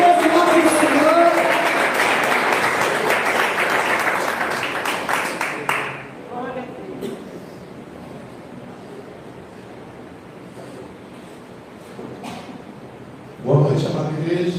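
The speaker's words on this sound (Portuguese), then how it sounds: "Aplauda mais uma vez em nome do Senhor." Church congregation at a missions service applauding loudly for several seconds, then fading into quiet murmurs and a brief renewed burst near the end.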